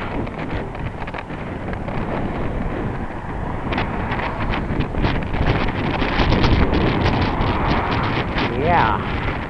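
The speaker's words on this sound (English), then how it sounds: "This is rather brisk easterly wind." Brisk easterly wind funnelling through a city, roaring steadily and loudly across the microphone as broadband buffeting that swells slightly toward the end, with no one speaking.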